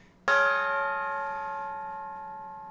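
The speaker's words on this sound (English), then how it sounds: "We officially have a sacred gong, which is going to serve as the starting point to every single one of our episodes" A single sacred gong struck in Minecraft rings out loud and clear, then hums on with a long, slowly fading ringing tone.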